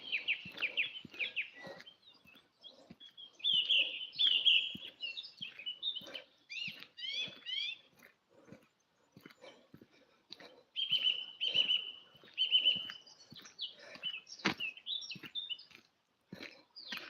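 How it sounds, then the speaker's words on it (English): A blackbird and a song thrush sing in an evening forest, with clear warbling phrases and sharp chirps repeating throughout, mixed with nearby crunching footsteps or rustling underfoot. "We do have song thrush out here. The blackbird's particularly mourning,"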